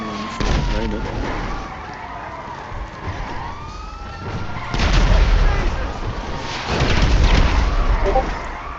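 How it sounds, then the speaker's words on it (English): A bomb detonating in a Grand Theft Auto PC game, heavy booming bursts around the middle and near the end over a rumbling mix of game noise and sirens, loud and close. "I actually detonated the bomb in his hands"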